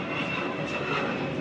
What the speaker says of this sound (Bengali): আবার প্লেন যাচ্ছে